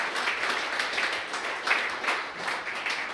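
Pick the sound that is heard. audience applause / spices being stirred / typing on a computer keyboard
audience applause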